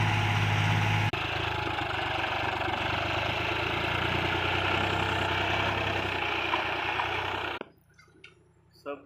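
A tractor engine runs with a steady, dense mid-range rumble and chatter, then cuts off abruptly near the end, leaving quiet with faint scattered sounds; a voice is heard along the way.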